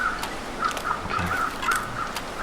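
Crows caw in a video game, several sharp, repeated calls spaced irregularly over a faint background, with no talk.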